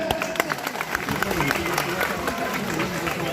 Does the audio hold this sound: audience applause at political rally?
yes